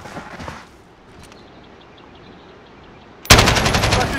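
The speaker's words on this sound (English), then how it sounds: "Man got shot and pushed back." Video game gunfire: a short burst of shots at the start, a quiet stretch, then a loud, sustained volley of rapid fire that runs to the end. No one talks.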